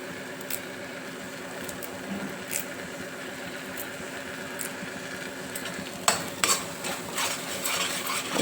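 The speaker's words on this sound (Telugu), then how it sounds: "నూనె అంతా పైకి వచ్చేదాక ఇట్లనే మనము కలుపుతూ వేయించుకోవాలి మసాలా" Masala frying in oil in a pan while being stirred, a quiet steady sizzle under rhythmic scraping strokes, with louder clinks and scrapes toward the end.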